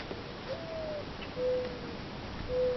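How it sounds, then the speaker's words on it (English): An owl hoots three times, faint and distant, each call a short clear tone spaced about a second apart over quiet outdoor background noise. "I heard an owl."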